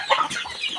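Chickens cluck in short, agitated bursts inside a coop as it is carried down, the calls loud and close with a restless, overlapping rhythm.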